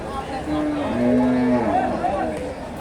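A calf at a cattle market in Bogura gives a long, loud, close moo lasting over a second, with faint crowd noise behind.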